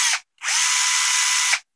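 Bosch 12V drill from an impact driver and drill combo kit spinning at full power, a short burst then a sustained loud high-pitched whir for over a second, close up and alone.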